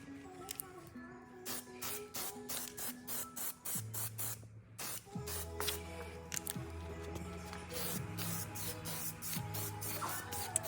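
Plasti Dip aerosol sprayed onto the gray front fender of a 2020 R1 motorcycle, heard as a series of close, hissing spray bursts with short pauses between them.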